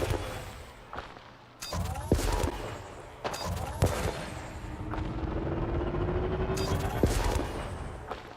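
Mining lasers and weapons blast diamonds off an asteroid in the Elite Dangerous space game on PS4: a series of sharp, loud bursts and impacts over a rumbling background, with a thin rising whine partway through.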